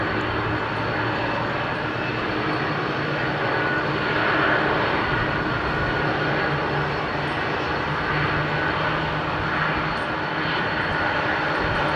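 Boeing 747 freighter with Pratt & Whitney PW4000 engines taking off from London Heathrow runway 27R, a broad, steady jet roar that swells slightly midway, loud and continuous with no talk over it.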